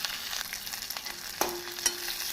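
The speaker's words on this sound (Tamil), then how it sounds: "பூண்டு வெங்காயம் 1 நிமிடம் நன்றாக வதங்கவும்" Garlic and onion sautéing in an oil pan for cabbage chutney, a steady close sizzle with a few louder stirring scrapes partway through, with no talking.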